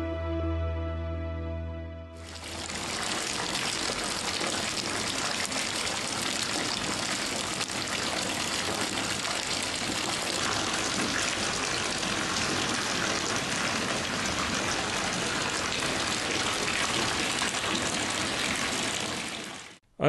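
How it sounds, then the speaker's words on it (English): Seawater gushes steadily into a spawning tank, a loud, continuous broadband rush of pouring water that starts abruptly after a brief low hum and runs unbroken to the end, with no talk. "Then run seawater into the tank."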